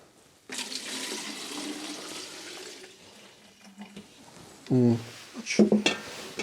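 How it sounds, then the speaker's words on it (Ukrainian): Milk gushes and splashes steadily into a feeding container for a newborn calf on a small Ukrainian farm, a near, continuous pour lasting several seconds before voices speak briefly at the end. "Зараз наливаємо телятку."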